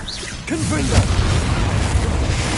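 A Confringo fire spell explodes in Hogwarts Legacy, a dense booming blast with crackling spread across the whole moment, loud and sustained amid combat noise.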